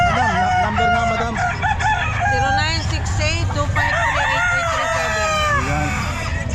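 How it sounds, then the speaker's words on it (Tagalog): Chickens and roosters at a pet market, with several loud overlapping crows and clucks close by, continuing throughout over a busy background and faint voices. "Ito mga manok niya."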